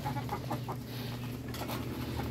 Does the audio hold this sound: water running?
no